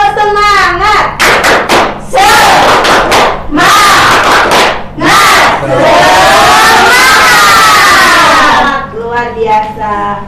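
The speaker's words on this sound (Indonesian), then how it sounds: "kita tepuk semangat dulu yuk" An elementary classroom doing the rhythmic 'tepuk semangat' cheer, loud group chanting punctuated by bursts of synchronized clapping, then a long sustained shout from the children before more chanting.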